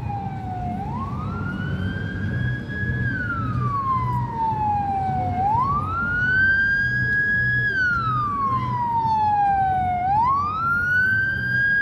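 Police and ambulance sirens wail on a street in Chisinau, Moldova, in slow rising and falling sweeps, fairly close and loud over steady traffic rumble.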